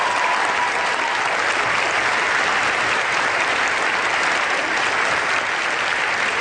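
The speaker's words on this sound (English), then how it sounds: "Let's just all give a round of applause and thanks to the many veterans that we have in attendance here today" A town hall audience gives veterans in attendance a steady, continuous round of applause, dense and even throughout with no speech over it.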